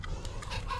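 Ghost chickens clucking in the point-and-click adventure game The Secret of Monkey Island, a brief burst of bird-like clucks layered over a steady game background.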